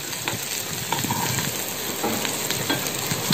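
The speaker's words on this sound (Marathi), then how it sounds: "कांदा आणि लसूण मिक्स करून आपण छान त्याला गोल्डन असा कलर येईपर्यंत परतवून घेणार आहोत" Onion and garlic sautéing in about three spoons of oil in a pan, a dense steady sizzle with stirring scrapes and small crackles, close and continuous without speech.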